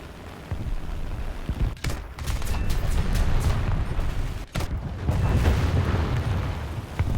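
Bursts of 20 mm cannon fire in the War Thunder tank game, heavy booming reports in a few clustered volleys over a steady engine rumble, with no talking.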